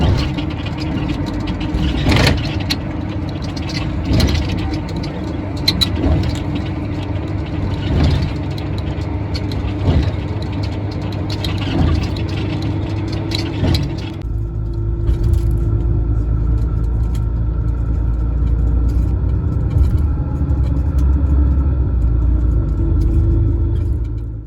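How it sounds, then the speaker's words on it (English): City bus pulling in and idling, heavy diesel rumble with rhythmic knocks, then settling into a steady low idle, close and loud. "Oh, here's my bus."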